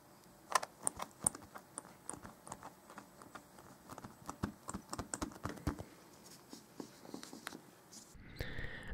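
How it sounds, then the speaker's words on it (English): Irregular sharp clicks from a damaged iPad 2 touchscreen pressed at its side edge, close and crisp, dozens of quick taps in an uneven rhythm with no talking. "if you pressed on the screen at the side, it would make this sort of clicking noise"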